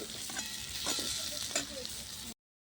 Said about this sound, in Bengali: এবার ভালো করে আমি পুরটা একটু কষিয়ে নেবো